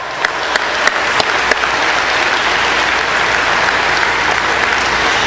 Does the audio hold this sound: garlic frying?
no